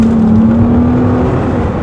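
An MG ZS 180 car engine accelerates hard, a loud, steady revving tone holding close and alone for a brief stretch before easing slightly.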